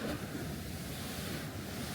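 Ocean waves breaking at Uluwatu beach in Bali, a steady broadband wash of surf with wind buffeting the microphone, continuous and fairly loud with no voices.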